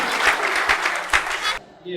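Audience applause at a church youth program as a youth leader is asked to stand, a burst of dense clapping for about a second and a half that cuts off abruptly, followed by faint room sound.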